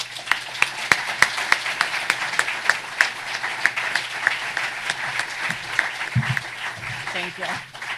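A crowd at a Pennsylvania state-house candidate debate claps and cheers as the two candidates take the stage, with steady, fairly close applause throughout and a voice briefly audible toward the end.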